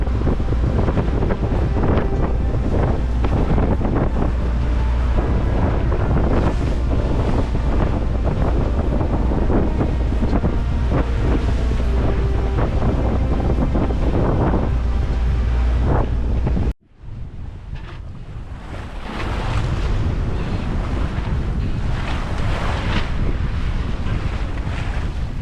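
Strong wind buffets a sailboat in a storm on a rough sea, with continuous roaring gusts and rushing waves; the sound cuts abruptly partway through, then picks up again as slightly thinner wind and water noise.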